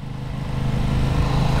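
Aprilia RS660 sport motorcycle engine running at low revs around 3000 rpm in a low gear, a steady close rumble that builds slightly, heard alone without talk.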